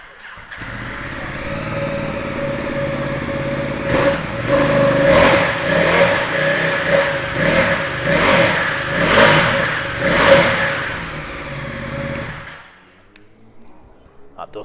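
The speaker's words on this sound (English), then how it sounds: "We'll give it a start up for you, it does sound well." A 2018 Ducati XDiavel 1300 motorcycle starts and idles, then is blipped through a series of about seven sharp revs before shutting off, close and loud.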